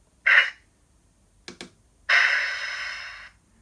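Coupler sound effect from a Hornby Colas Rail Class 56 DCC-sound model locomotive: a short clank, then two quick clicks, then a longer hissing burst of about a second, with no talk.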